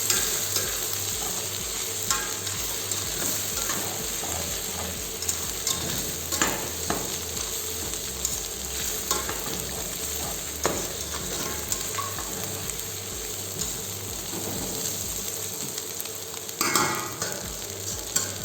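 Scrambled eggs being stir-fried with pad thai ingredients in a hot pan, a steady loud sizzle running throughout with repeated scraping and clinking stirs, close up, and no voices.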